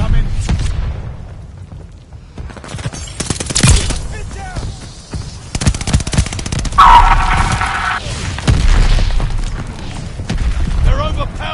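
Gunfire and booming explosions in Call of Duty Vanguard on PS5: loud bursts of rifle and machine-gun fire with heavy blasts that come and go throughout a chaotic battle, with a voice speaking over the fighting.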